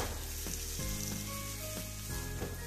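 Chopped carrot frying in a pan over a full gas flame for street-food pudla sandwich filling, a steady close sizzle with a few stirring scrapes and no talking.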